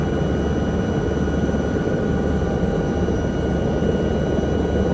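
A rescue helicopter in a flight simulator game idles after landing in the Alps, its turbine whine and rotor drone forming a loud, steady, dense roar with no voices over it.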